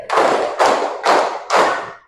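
A group claps the tepuk tabligh rhythm, four loud sharp bursts of many hands at a steady beat, each clap ringing briefly before the next, with no talking.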